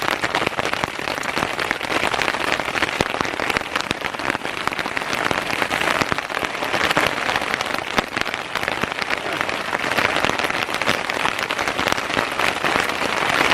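Hail falling on a tarp at a winter camp, a dense, continuous patter of pellets drumming on the fabric close overhead, loud and steady throughout with no talking.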